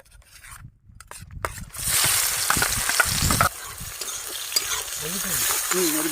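Raw ingredient dropped into hot oil in a pan for a Bengali egg masala curry, bursting into a loud, steady sizzle after a few soft stirring scrapes, with brief spatula strokes continuing close by.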